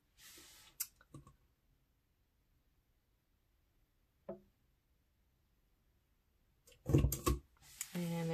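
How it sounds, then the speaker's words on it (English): A Crop-A-Dile hole punch set to 1/8 inch cuts holes in scrapbook paper, giving sharp isolated clicks near 1 second and 4.3 seconds, followed by louder handling and rustling near the end. "I am going to cut a hole in these as well."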